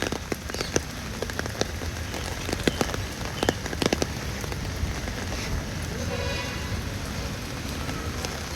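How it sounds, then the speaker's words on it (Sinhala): Steady rain falls around Kandy Lake, a dense continuous patter with sharper drops and crackles close by, and voices are faintly heard underneath. "ඔතනම වහිනවා"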